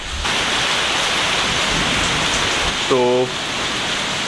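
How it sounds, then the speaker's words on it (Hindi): Heavy morning rain pours steadily at a resort in Corbett, a dense, loud, continuous hiss close by, with a person speaking briefly over it. "बहुत तेज़ बारिश हो रही है।"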